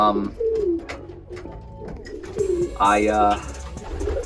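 Pigeons or doves in a breeding setup give several soft, low cooing calls, close and fairly loud, with brief rustling and faint background noise between them.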